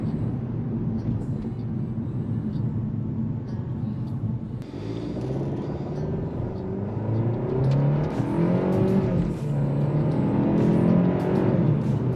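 A 2023 Kia K5 GT Line accelerates hard from the cabin, its engine note rising steadily into a louder, strained roar toward the end over a constant road rumble.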